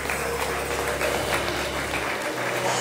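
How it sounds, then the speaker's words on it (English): Church congregation clapping their hands together in praise, a dense sustained round of clapping with a low hum underneath that drops out near the end. "Clap your hands for the word of God."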